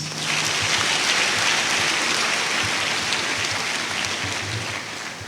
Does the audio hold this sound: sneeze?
no